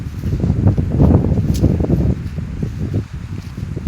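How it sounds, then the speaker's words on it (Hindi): Wind blows outdoors, buffeting the microphone with loud, uneven low rumbling gusts and a faint rustle, steady throughout with no voices. "हवा बहुत चल रही है"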